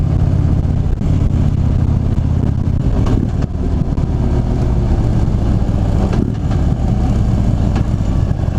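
Motorcycle engine building speed while being ridden, a steady loud low rumble with a slight rise and a couple of brief shift dips, wind noise over the top and no talking.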